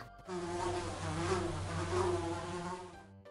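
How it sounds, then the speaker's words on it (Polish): A fly buzzes steadily and close up for about three seconds, a droning hum with a slight wavering pitch, no voices. "муха"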